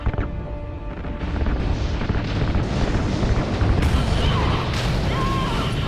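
Ignited RCS fuel lines blowing up in the video game Call of Duty: Ghosts, a loud rolling explosion that swells into sustained roaring rumble with a few sharper bursts. Voices sound faintly beneath it.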